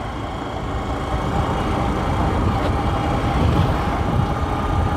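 A motorcycle cruising in third gear, its engine droning steadily under constant rushing wind and road noise, close and fairly loud throughout with no pauses.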